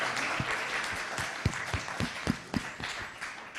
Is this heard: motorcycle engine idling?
no